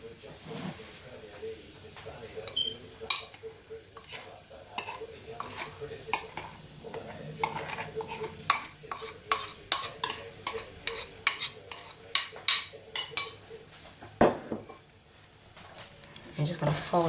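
A spoon folds dry ingredients into wet cookie batter for dairy-free chocolate raisin cookies, giving repeated soft scraping and clinking strokes against a bowl, close and fairly quiet, with a person talking over them.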